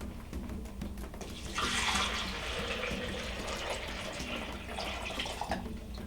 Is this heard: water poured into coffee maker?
yes